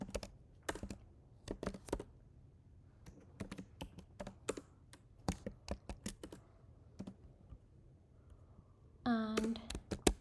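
Someone types Java code on a computer keyboard in short irregular clusters of crisp key taps, close and fairly quiet, with a brief spoken voice near the end.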